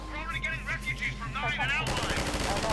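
Weapon fire in Half-Life 2 breaks out as a loud, rapid burst of gunshots near the end, following someone talking over a steady background hum.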